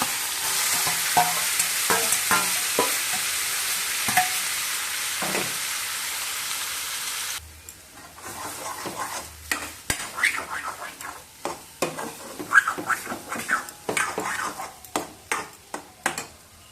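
Boiled carrots fry in a pan with a steady broadband sizzle for the first half, then a spoon or spatula stirs with a series of distinct scraping clatters while the frying continues underneath.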